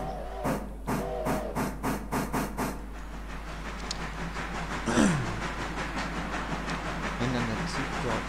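Locomotive No. 1 pulling a passenger train in the video game Railroader gives off a steady hiss and rumble, with a brief whistle-like sweep midway. Someone talks over the opening seconds.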